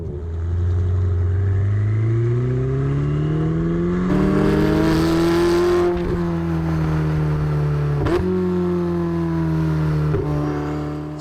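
A Ferrari 488 Spider drives along, its engine note climbing and falling through the gears with sharp shift breaks, loud and close with no talk.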